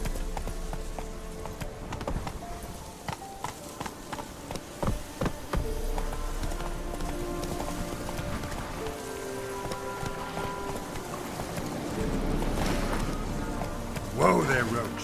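Roach the horse from The Witcher 3 galloping, a steady stream of hoofbeats over falling rain and game ambience, with a brief voiced command near the start and a louder burst near the end.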